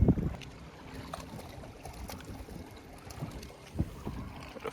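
A small boat pushes through shallow water about a foot deep, steady low hull wash and water lapping with occasional knocks and splashes, light wind noise over the mic, no voices.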